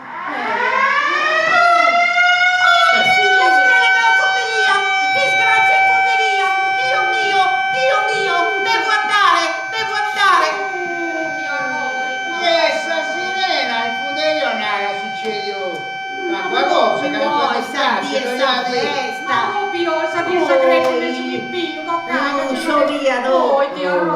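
A wailing civil defense-style siren rises and falls with steady harmonic tones across the whole stretch, loud and continuous, in an Italian-language stage comedy about a foundry, with children and adults talking over it throughout.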